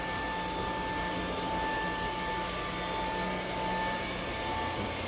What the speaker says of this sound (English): Hopefully vacuuming does not make you dizzy.